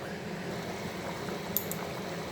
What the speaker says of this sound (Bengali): এবার ঝোলটা ফুটে উঠুক।